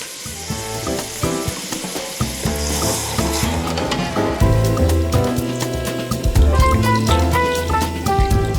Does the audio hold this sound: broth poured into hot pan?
yes